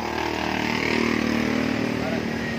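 A Yamaha Aerox scooter fitted with a stainless steel SKR racing exhaust runs at a steady, close, loud idle, a droning hum with voices nearby.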